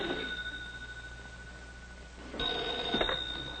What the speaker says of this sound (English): Make yourself useful and answer the phone.